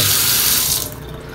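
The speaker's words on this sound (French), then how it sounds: "Fait que là, eau chaude par là. Eau frette par ici." Water gushes steadily from a sink faucet, a loud close hiss that eases off slightly near the end, with no one talking.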